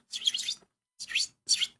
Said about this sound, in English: I go outside, you see the birds saying,